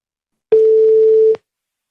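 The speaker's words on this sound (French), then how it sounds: "Voilà, ça retéléphone." A single steady telephone tone sounds as a call is placed again, a loud, pure, unbroken beep lasting just under a second that starts and stops abruptly, then silence.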